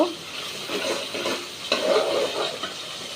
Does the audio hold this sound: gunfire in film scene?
no